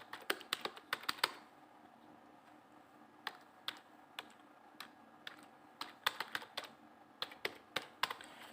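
An email address being typed on a computer keyboard: quick bursts of crisp key taps in uneven clusters, close and clear against a quiet room, with short pauses between runs of keys.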